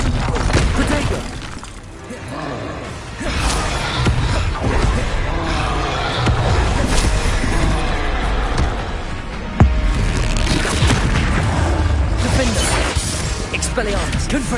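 Spell blasts from Confringo and Bombarda in Hogwarts Legacy crash and shatter through dense, loud combat noise, with one sharp crack standing out partway through.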